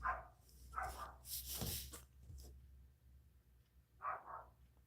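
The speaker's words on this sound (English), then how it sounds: "Goddamn dog." A neighbor's dog barks faintly in the distance, a few scattered short barks and yips separated by pauses, quiet and alone with no talking.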